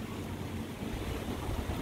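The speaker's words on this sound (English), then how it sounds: "And that is the mighty Pacific Ocean." Pacific Ocean waves wash steadily off an island shore, a constant broad roar of surf mixed with some wind noise and no voices.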